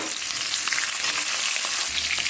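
Black cumin seeds and green chillies sizzle in hot oil on a low gas flame, a steady, close crackling fry that runs throughout without any voices.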